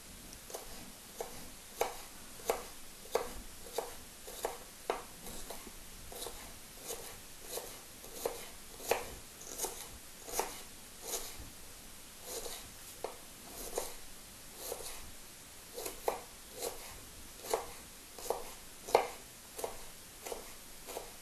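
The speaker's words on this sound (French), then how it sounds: "pour le hacher, il vaut mieux le couper en lamelles et ensuite en petits cubes" Ginger is cut with a knife into fine slices and small dice, heard as a long run of steady, quick taps on a cutting board. The strikes are close and even, and no one speaks.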